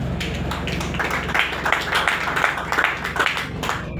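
Audience clapping at a senator's birthday celebration, a busy patter of hand claps with irregular bursts, mixed with background murmur and faint talk.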